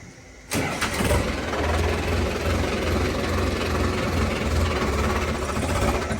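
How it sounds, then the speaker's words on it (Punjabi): A tractor engine that stalls when put in gear cranks and catches with a sharp start, then settles into a loud, steady, rhythmic diesel idle that runs on close by without any talk. "ਇਧਰ ਜਦੋਂ ਆਪਾਂ ਗੇਅਰ ਪਾਉਨੇ ਆ ਟਰੈਕਟਰ ਬੰਦ ਹੋ ਜਾਂਦਾ ਆ"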